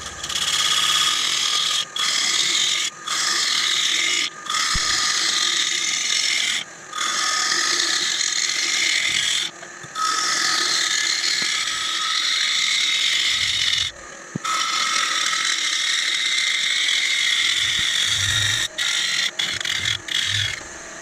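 An ash bowl blank spins on a woodturning lathe while a cutting tool takes it down, giving a steady, loud rasping scrape that breaks off in short pauses as the tool lifts away, with no voice heard.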